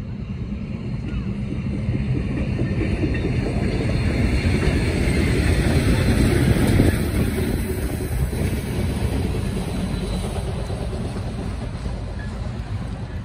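Steam locomotive SOO Line 1003 rumbles past steadily, running westbound in reverse at Iron Ridge, Wisconsin, with a continuous heavy roar and rattling cars, growing slightly louder midway before holding steady.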